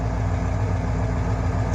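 A car engine with a noisy lifter idles, a steady close mechanical drone with a slightly uneven, choppy pulse and no voices.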